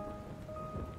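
Steady rain in the video game A Double Sided Mirror, a constant hiss of falling water with soft low rumbling beneath, alone and unbroken for a moment.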